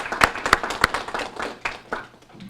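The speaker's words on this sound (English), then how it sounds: "we should give ourselves a round of applause and give all the students a round of" A few sharp, separate handclaps ring out close by at a press conference on graduation rates, followed by a softer spread of clapping and faint murmur from the room.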